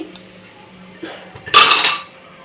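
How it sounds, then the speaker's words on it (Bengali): Boiled jackfruit tipped from a pot into a metal bowl for a vegetarian chana dal dish, heard as a few soft knocks followed by a louder clattering metallic scrape and rattle as the pieces slide in, close and alone. "এখন আমি এঁচড়টাকে এই গামলাটার মধ্যে ঢেলে নেবো"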